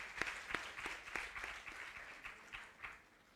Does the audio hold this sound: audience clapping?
yes